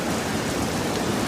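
Storm rain hisses as a dense, steady wash, close and even, with no voices over it.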